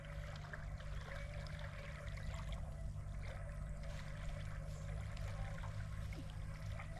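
The Teesta river's current rushes in a steady, unbroken wash of flowing water that holds at an even level throughout, with no voices.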